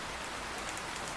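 Steady rain falls throughout a cartoon scene about a bird family's chicks flying in a downpour: a dense, even hiss of drops with no voices, close and continuous for the whole moment.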